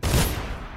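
A single loud gunshot blast in the video game Dishonored, fired at rats, decaying quickly.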